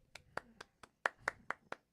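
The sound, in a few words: hand clapping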